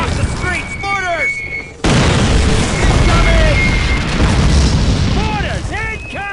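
Mortar shells burst in a Call of Duty battle, a sudden heavy boom followed by sustained rumbling blasts and debris, with shouted voices and whistling incoming rounds overlapping throughout.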